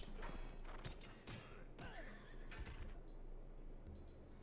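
A horse in Civilization III gives a loud, clear whinny that rises and falls over a couple of seconds, followed by a steady low hum of game background.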